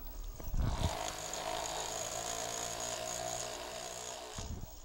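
A R.O.B. robot's gyro top spins up to speed in its motorized holder, a steady whirring hum with a rising whine between brief rattling clunks at the start and end, sounding like a small power sander.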